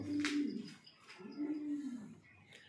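Fancy pigeons in a loft giving two soft, close, rolling coos, one after the other, with faint background noise and no talk.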